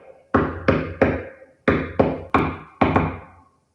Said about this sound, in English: Secret knock?